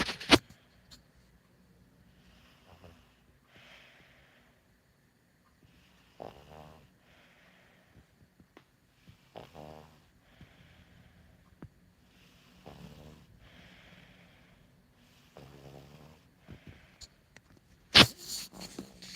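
A sick pug asleep on a lap breathes heavily in irregular snorting, snoring bursts, some rattly and wheezy, separated by quiet pauses, close and fairly faint, with a sharp noise near the end.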